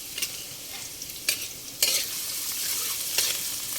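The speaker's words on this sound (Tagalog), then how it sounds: "Then we will saute our recipe for today." Chicken sautéing in a hot pan, short bursts of scraping sizzle as the pieces are stirred and turned, fairly quiet and close with a soft hiss between bursts.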